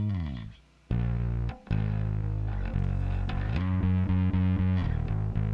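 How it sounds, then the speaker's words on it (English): A heavily distorted bass guitar plays thick, gritty sustained notes with brief gaps between phrases, loud and upfront with no voices. "we have a bass distortion track that comes up."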